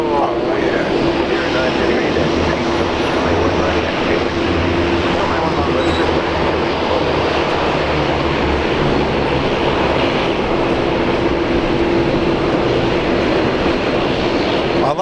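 An airplane takes off at Brisbane Airport with a loud, steady engine roar that holds at full strength for the whole stretch, close and unbroken.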